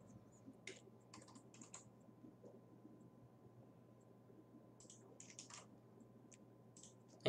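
Keystrokes on a computer keyboard as an IP address for a private name server is typed: scattered short bursts of quick clicks with pauses between, faint and close over a steady low hum.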